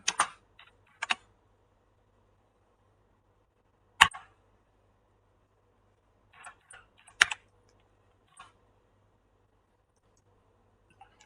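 A bash command typed on a computer keyboard, heard as short bursts of crisp key clicks separated by long quiet pauses, close and clear with no talk.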